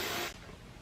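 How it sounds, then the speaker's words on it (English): A can of Dove body spray gives one short, close, hissing burst that cuts off abruptly, leaving quiet room tone. "And then we're gonna get some of this Dove spray."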